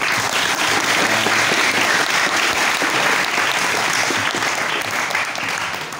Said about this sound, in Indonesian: Masya Allah, tepuk tangannya dong.